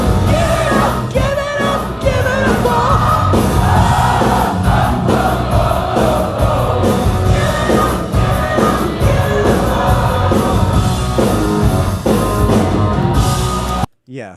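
Concert crowd singing along loudly to a song, a dense, sustained mass of voices with shouts and whoops over the band, cutting off abruptly near the end.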